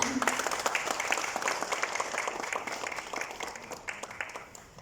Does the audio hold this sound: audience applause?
yes